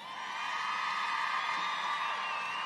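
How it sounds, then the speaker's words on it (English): A crowd at a Trump 2020 election rally cheers and whoops in a sustained, swelling roar of many voices that carries on for the whole stretch. "Look at that crowd."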